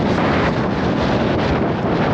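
Strong outdoor wind of around 30-40 mph roars and buffets directly against the microphone on an upland walking route from Shap to Patterdale, a loud, constant broadband rush with no voices.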